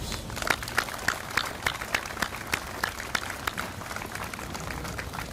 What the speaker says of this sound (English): Let's give a round of applause to all of our recruiters.